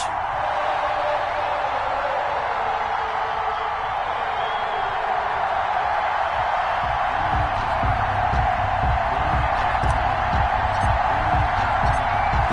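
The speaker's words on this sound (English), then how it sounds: "This crowd is ready as their guys get set to match up with the Carolina Panthers." A stadium crowd in an NFL football video game before a matchup with the Carolina Panthers, a steady, dense roar of cheering that holds throughout with faint whoops and a low rumble building toward the end.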